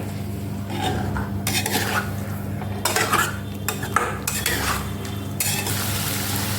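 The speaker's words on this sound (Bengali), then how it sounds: "পানি দিয়ে আমি আবারও কষতে থাকবো" A metal spoon stirs and scrapes thick spice masala with added water in a pan, giving steady clinks and rasps over a soft simmering sizzle.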